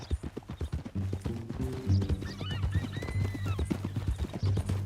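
Horse hooves clip-clop steadily at close range in the Red Dead Redemption video game, a rhythmic walking gait with tack jingling and a faint whinny partway through.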